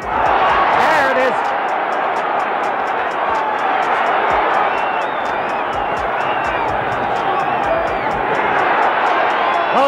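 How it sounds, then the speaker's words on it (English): Boxing arena crowd roaring and cheering on Muhammad Ali in his fight against Bonavena, a dense, steady wall of voices and whoops with scattered claps, continuous and loud, with a commentator talking over it. "Crowd alive for a change. In what has been a most sluggish performance. Crowd exhorting Ali on."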